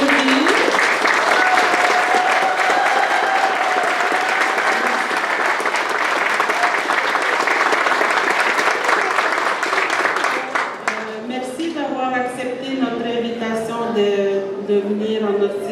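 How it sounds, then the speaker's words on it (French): Sustained loud audience applause at a school inauguration ceremony, dense crowd clapping with a voice briefly rising over it, fading after about ten seconds as talking takes over. "On peut s'applaudir."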